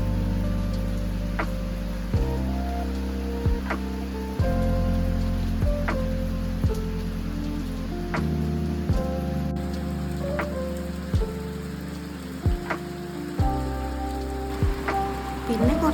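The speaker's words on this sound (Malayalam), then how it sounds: "പിന്നെ കുറച്ചു നേരം ഈ മഴയൊക്കെ പെയ്യുന്നത് നോക്കി നിന്നു." Steady rain falls on a cozy rainy day, a continuous close hiss of drops on surfaces that runs evenly throughout, layered over soft, sustained background music.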